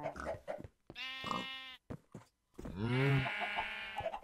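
Sheep in the video game Minecraft bleat in several drawn-out, wavering cries with short gaps between them, close and fairly loud over faint background noise.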